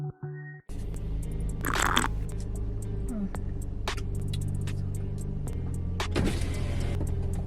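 A car's power window runs with a steady motor whine inside a parked car whose idling engine hums underneath, a soft near mechanical sound that carries on for several seconds.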